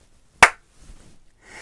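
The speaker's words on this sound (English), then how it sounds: "then clap clearly in front of the camera like this" A single sharp hand clap in front of a camera, made to sync audio and video, cracks out loud and close in a quiet room, then a faint rustle and low murmur follow.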